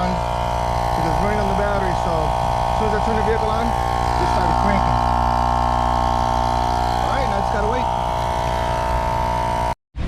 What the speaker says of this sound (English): So as soon as I turn the vehicle on, it started cranking.